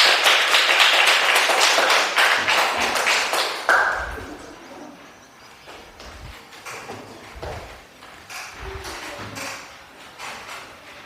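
Students clapping in a classroom, a brisk burst of hand claps at the start that quickly fades, followed by scattered light taps and room noise.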